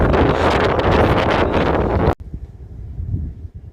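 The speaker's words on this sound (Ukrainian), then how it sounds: "Як ви можете чути, у нас страшенний вітер." Strong wind roars and buffets loudly across the microphone, then cuts off abruptly into quieter gusts and rustling.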